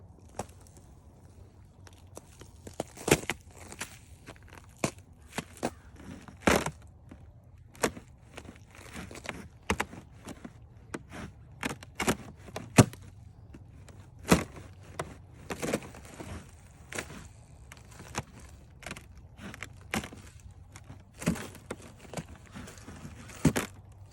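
Footsteps cross a frozen, snowy creek, with irregular crunching and cracking steps, some sharp and loud and others soft, against a quiet outdoor background.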